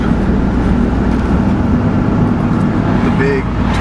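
Dense, loud roadway noise from cars rolling along a busy tourist strip in Nags Head, North Carolina, a constant low rumble close by with a person talking over it.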